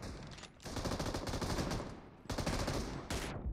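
Rapid automatic gunfire rattles in long, dense bursts during a team video game match, with two short pauses between volleys, loud and close with no voices.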